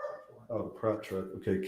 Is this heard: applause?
no